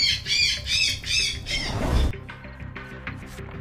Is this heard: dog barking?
no